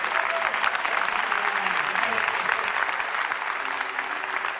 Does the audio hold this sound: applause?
yes